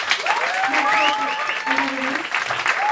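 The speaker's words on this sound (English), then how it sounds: "can we get a round of applause for the band" Crowd at a London jazz bar applauds the band in a dense burst of clapping, with a voice speaking and a whoop rising over it.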